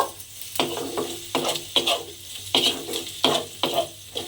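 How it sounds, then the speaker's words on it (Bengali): Chopped garlic and ginger stir-fried in a pan for an egg chicken tarka, giving a steady close sizzle broken by repeated rhythmic scraping strokes of a spatula roughly every half second. "1 চামচ মতো আদা কুচি। দিয়ে আবার একটু নাড়াচাড়া করে ভাজা ভাজা মতো করে নেব।"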